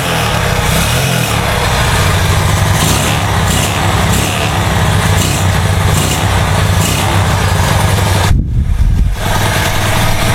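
A motorcycle engine fitted with a PZ27 carburetor runs with the throttle opened slightly, a loud, steady, close-up drone that cuts out briefly near the end.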